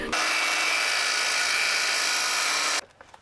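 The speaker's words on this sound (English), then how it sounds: "I just set the miter to a 45-degree angle" A miter saw set to 45 degrees cutting through a piece of flooring: one steady loud whining cut lasting under three seconds, close by, then the blade winding down with faint clatter.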